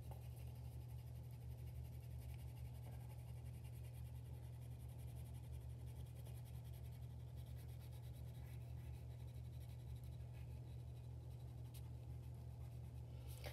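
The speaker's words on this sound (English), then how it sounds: "you fill in kind of around the edges that you didn't hit with that first color" Red crayon rubbing across paper while coloring in a paper fan rosette, a soft continuous scratchy scraping held steady at low level over a constant hum, with no voices.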